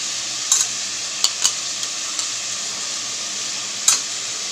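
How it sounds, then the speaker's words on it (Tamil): Ground masala sizzles and is stirred in a pan, a steady bright frying hiss running throughout with a few sharp scrapes and clinks of the spoon against the pan. "இதையும் நல்லா வதக்கிக்கலாம்."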